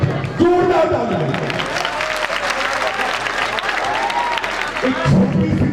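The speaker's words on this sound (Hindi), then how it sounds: "जोरदार ताली।" Loud applause from a crowd at a Ramayana performance of Sita's exile and Luv-Kush's birth claps on continuously, with voices calling out over it near the start and end.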